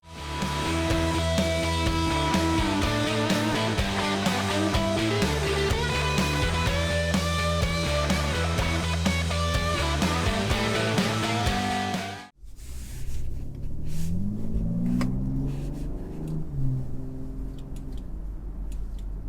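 A 2021 BMW M340i engine while driving: loud, steady music fills the first part, then after a brief drop the engine takes over with a rising, revving note that climbs and falls close by.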